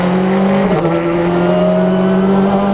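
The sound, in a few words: racing car engine accelerating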